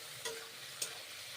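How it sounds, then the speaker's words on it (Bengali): Bitter gourd slices fry in a pan with a little water, giving a soft, continuous sizzle broken by two brief scraping stirs. "এইভাবে ভেজে নিচ্ছি করলা ভাজা।"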